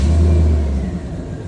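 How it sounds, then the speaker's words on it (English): A pickup truck engine fires up and runs with a loud, steady low rumble that eases slightly after the first moment, close by with no talking. "I'm gonna fire the truck up"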